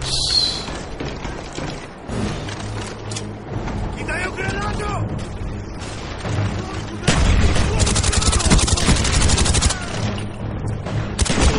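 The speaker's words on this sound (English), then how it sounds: "Freaking shotguns, man!" Gunfire, including shotgun blasts, in an online Call of Duty Black Ops Search and Destroy match on PS3, with dense overlapping shots and game noise throughout and a louder burst near the end under a player's voice.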